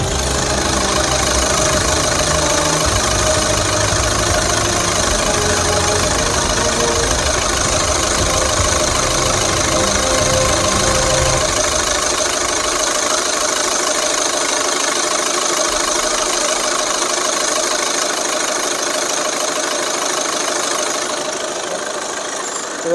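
A 2016 Skoda Rapid 1.6 TDI diesel engine idles steadily with a close-up, continuous mechanical drone and a faint regular knock. The low rumble thins out partway through, and no voices are heard.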